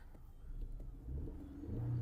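An Audi A4 B7 with an automatic gearbox and 228,000 km on it idles after starting, a faint low engine hum with a slight rise in pitch toward the end and no talking.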